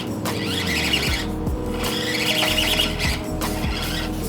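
An Axial SCX24 Yukon Denali RC crawler works over an indoor basement crawl course, its small electric motor giving a thin, whining drone that rises and falls in repeated bursts while driving.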